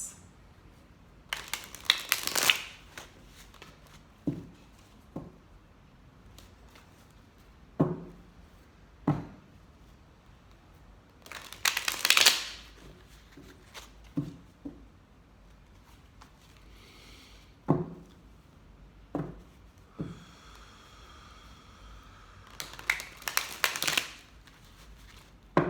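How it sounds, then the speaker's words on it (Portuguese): Tarot cards being shuffled by hand in bursts of riffling and soft slapping, with quieter taps and card handling between the bursts, close and moderately loud. "Enquanto eu estou embaralhando aqui"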